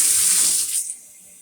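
Water rushes loudly and steadily from a newly installed shower head, a bright hissing spray that cuts off abruptly partway through, leaving only faint residual dripping.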